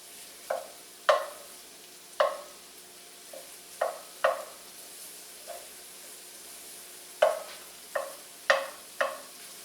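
Shallots cook down in a pan, giving a low steady sizzle broken by repeated short scraping stirs at an uneven rhythm, close and fairly quiet, with no talking.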